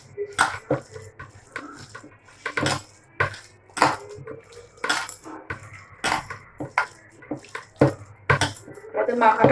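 Potatoes for pakora are mixed by hand in a bowl, producing irregular close clatter, scraping and soft knocks against the bowl in steady bursts.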